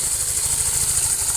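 A motorcycle engine idles steadily during an oil check, a close, even low putter with a constant rhythmic pulse and no revving.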